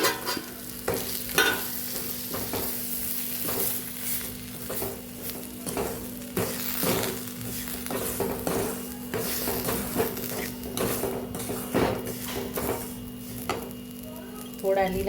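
Semolina being stirred into sautéed tomato in a hot pan, with a steady sizzle and repeated scraping, stirring strokes close up throughout.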